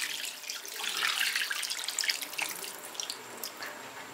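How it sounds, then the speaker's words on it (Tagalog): Water streams from a container into a pot of pork caldereta with coconut milk, a close, splashing trickle that runs steadily for several seconds with dripping and no talk. "At ngayon po, lalagyan na po natin siya ng tubig."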